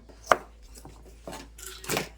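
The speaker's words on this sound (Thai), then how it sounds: "หั่นเป็นก้อนไซส์ประมาณนี้ไปเลยนะคะ" A knife chops a cucumber into chunks on a board, with a few separate sharp cuts: one loud thwack early, then softer chops and a final cluster of taps.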